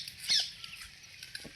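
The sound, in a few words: heavy rain falling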